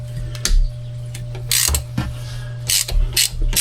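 A ratchet breaks loose the head bolts on a jet ski engine: several short bursts of crisp, close ratcheting clicks separated by brief pauses, with no talking.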